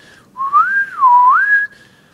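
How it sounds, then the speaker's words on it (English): A single whistled tone, held steady, then sliding down, up, down and back up in a smooth pitch glide for about a second and a half. It sounds clear and close, with nothing else around it. "it's exactly like whistling actually"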